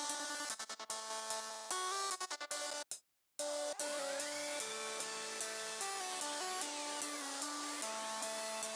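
A looped music beat run through an EFX motion effect: sustained pitched synth tones bend and sweep up and down over steady ticking percussion. There is a brief cut to silence early on, and no one speaks.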